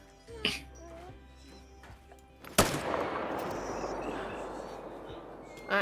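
A single sharp gunshot fired at a crocodile in a hunting video game, a loud crack followed by a long rumbling decay, with a smaller thump earlier and game ambience around it.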